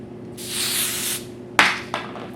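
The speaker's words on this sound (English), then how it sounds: "So I'm just gonna spray this." Hairspray misted from an aerosol can onto a pinned updo: one long hissing burst close by, then a short sharp spurt and a fainter final puff, with no voices.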